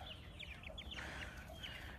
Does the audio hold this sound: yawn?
no